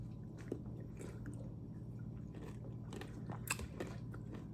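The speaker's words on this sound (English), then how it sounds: "I love the berry taste, but also how cold and refreshing it is with the added crunch of the granola." Close, crisp bites and chewing of a frozen blended-berry acai bowl topped with crunchy granola, heard alone, with several soft crunches over a steady low hum.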